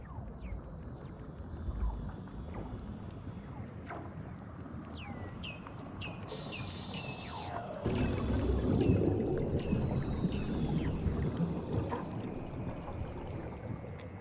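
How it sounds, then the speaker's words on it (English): Weddell seal calls recorded underwater beneath Antarctic ice: a run of descending whistles, chirps and sweeping trills, some long and gliding, over a steady watery rumble that grows louder midway. "They're actually the calls of Weddell seals."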